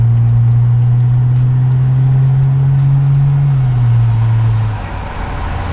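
A car fitted with universal spacers cruises at higher speed, a loud steady engine drone with a low hum that drops in pitch toward the end, plus faint ticking road noise, heard from inside without talk.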